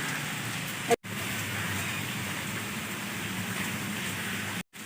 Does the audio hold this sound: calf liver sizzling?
no